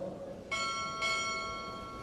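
A ship's bell at a chief petty officer pinning ceremony rings twice in close succession, two bright clangs half a second apart with a long shimmering ring that fades out; no talk over it.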